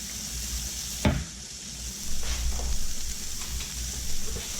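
Shallots sizzle in butter in a pan, a soft steady frying hiss with a sharp clatter early on as they drop in, then gentle stirring swells.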